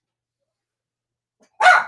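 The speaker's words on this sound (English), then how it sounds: "we tried to plan so the dogs won't be barking" A single dog's bark bursts in near the end after a long silence, loud and close, with no other sound around it.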